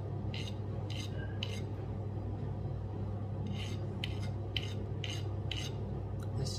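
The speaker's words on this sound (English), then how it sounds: "Just chamfer this." A hand file scrapes in short, crisp bursts while chamfering the threads of a CO2 valve part for an Artemis CP2/Diana Chaser air pistol, a few strokes in a cluster, a pause, then a quicker run of strokes, close and fairly quiet.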